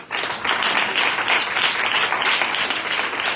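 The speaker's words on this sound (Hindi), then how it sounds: "आप एक दफा अपने लिए भी ताली बजाएं।" A congregation at a Christmas night church service applauds, a dense, sustained burst of clapping filling the room from many hands, loud and even throughout.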